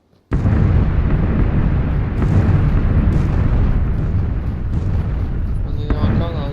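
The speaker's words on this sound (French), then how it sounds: "On est encore dans la zone de bombardement." Explosions rumble through the bombing zone in the PUBG video game, a continuous loud booming roar of blasts close by, with a brief sharper burst near the end.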